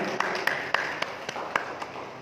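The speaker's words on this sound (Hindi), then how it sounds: "जोरदार तालियां आपकी" Audience claps for a little girl's yoga performance at a Yoga Day celebration, heard as a handful of distinct, separate claps spaced irregularly over a low background murmur, fairly soft overall.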